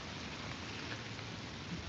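Steady rain falls during an outdoor catfishing session near St. Louis, a constant soft hiss of drops on surfaces with no talking and no breaks.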